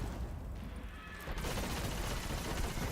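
A Necrochasm auto rifle in Destiny fires in a dense, continuous rapid burst that starts about halfway through and stays loud and steady to the end.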